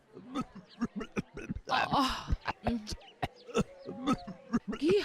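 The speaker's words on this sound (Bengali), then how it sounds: "হাঁচি কাশির আওয়াজ আসছে সেবালয় থেকে।" Cartoon patients in an infirmary cough, clear their throats and sneeze in a quick run of short, overlapping bursts, with snickering and voiced sounds mixed in.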